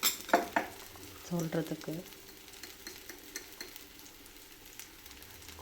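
A spoon scrapes and stirs a mint chutney mixture in a pan, with a few clattering strokes and light sizzling near the start, then quieter scattered scraping, with a brief spoken word over it.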